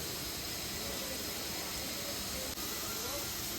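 Potatoes fry in hot oil in a pan for a vegetarian paneer dish, giving a loud, steady, close hiss that holds unbroken throughout with only a brief dip near the end.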